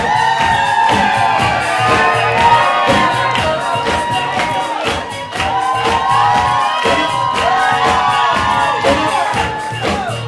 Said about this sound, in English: Put your hands together for the parents of our bride, Liz and Steve!